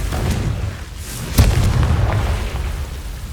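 A Confringo fire spell explodes in the Hogwarts Legacy video game, giving one loud, sharp boom partway through over a steady low rumble of game ambience.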